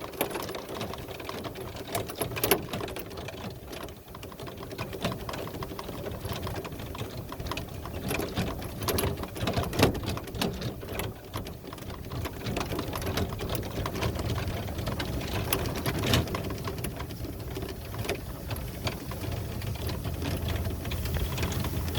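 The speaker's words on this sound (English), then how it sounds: "the golf cart I should say, has had a bumpy enough ride" A golf cart rolls over a bumpy cross country course, its small motor humming steadily under continuous rattling and clattering from the rough ground, close and fairly loud throughout.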